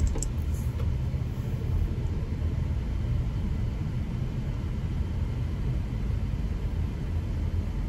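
An Audi Q3 Sportback with sporty suspension drives over broken, rough ground. Heard from inside the cabin, it makes a continuous low rumble and road roar, steady and dense for eight seconds, with no talking.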